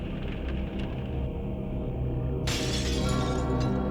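Glass shatters abruptly as firefighters force their way into a fire-ravaged reception area on the 79th floor of the Empire State Building, a loud bright crash over a dense rumbling background, followed by lingering crackle and debris.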